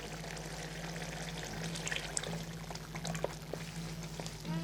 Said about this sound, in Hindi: मैंने फुल भरा हुआ बाउल लिया है योगर्ट का, मैं ये डाल दूँगी